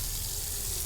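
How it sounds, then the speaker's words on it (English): Water running from a tap into a bucket in the video game Autopsy Simulator, a soft steady hiss of pouring liquid, fairly quiet and unbroken, with no speech. "Fill the bucket with water."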